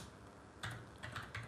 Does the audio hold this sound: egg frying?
no